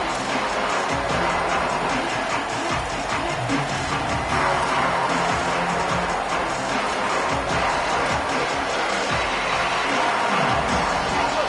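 A football stadium crowd roars steadily through the whole stretch, a dense wall of cheering and noise that stays loud without breaks.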